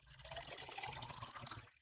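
Water trickles and splashes steadily into an MRE orange-flavored beverage pouch, a quiet, continuous liquid pour lasting just under two seconds before tapering off.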